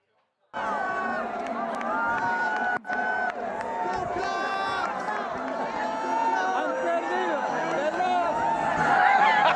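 Crowd in Vatican City cheering for Pope Leo, a dense continuous swell of many voices shouting and calling out, building slightly louder toward the end.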